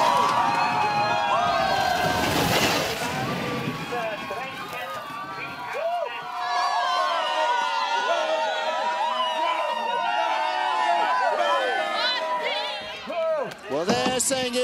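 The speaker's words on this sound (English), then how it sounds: "Latvian crowd." A Latvian crowd cheers and roars at the finish of a four-man bobsleigh World Cup heat in Igls. The noise swells loudly early on, then carries on under a commentator's excited talk.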